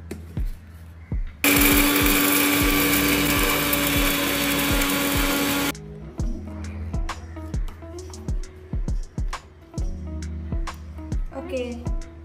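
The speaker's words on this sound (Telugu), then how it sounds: "దీన్ని మిక్సీ పట్టేద్దాం" A mixer grinder whirs loudly at close range for about four seconds, pulverising dal, garlic, dried red chillies and salt into a spice powder, then stops and leaves only light knocks and handling clatter.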